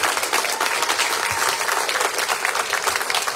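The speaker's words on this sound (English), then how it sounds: "let's give them a round of applause" Audience at a university lecture applauding the event's sponsors, a dense, steady round of clapping from a full room that holds level throughout.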